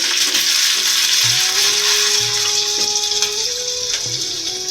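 Potatoes frying in a hot oil tempering of cinnamon, cloves and green cardamom, producing a loud, close, continuous sizzle with light stirring clatter and no talking.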